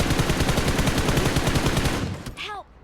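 Automatic rifle fire in the battle royale game BGMI, a rapid sustained burst of close, loud shots that cuts off abruptly near the end.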